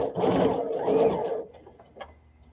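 A domestic sewing machine stitches a curved seam on a baby sunsuit, its motor buzzing steadily and close for about a second and a half before stopping, followed by faint handling clicks.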